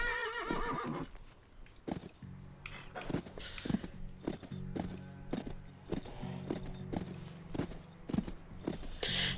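Horse riding in the video game Call of Juarez: Bound in Blood, with a whinny at the start followed by steady, evenly spaced clip-clop hoofbeats against a constant background hum.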